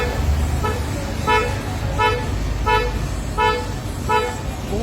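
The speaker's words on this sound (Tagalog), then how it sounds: "Bumubusina lang siya kapag pinihit yung manibela." A Toyota Revo's horn gives a series of short honks, about five evenly spaced beeps, over a steady low engine rumble; the faulty horn sounds only when the steering wheel is turned.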